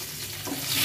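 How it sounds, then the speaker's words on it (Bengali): Fish frying in a pan at a family birthday gathering, a brief steady sizzle heard close and alone. "মাছ ভাজা চলছে"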